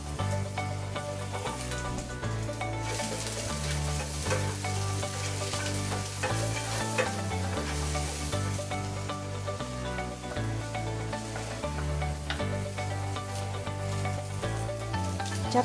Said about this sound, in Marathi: कांदा छान भाजण्यासाठी।